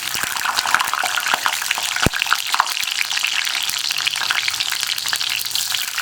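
Loud, dense sizzling and crackling of onion frying in hot coconut oil, continuous throughout, with one sharp knock partway through.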